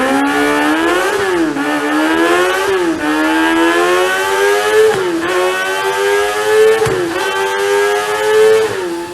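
Kawasaki Ninja ZX25R inline-four with a GT Pro Titanium aftermarket exhaust, revved hard in repeated high-pitched rising sweeps that shriek near a siren-like wail, loud and close with no talking.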